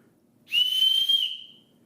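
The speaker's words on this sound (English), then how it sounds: "it's got a whistle right here, and the whistle sounds pretty good" A survival kit whistle gives one loud, shrill, steady blast of under a second, close and clear against a quiet background.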